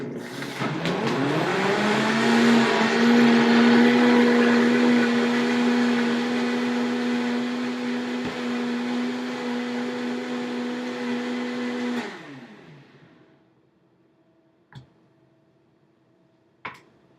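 A blender mixing green lemonade runs loud and steady for about twelve seconds with a whirring motor hum, then winds down to silence, followed by two faint clicks.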